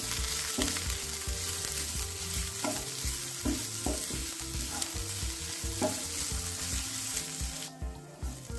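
Onion and ginger paste frying in a little ghee over a low flame, giving a continuous soft sizzle broken by repeated scraping stirs of a spoon against the pan, close and unvoiced.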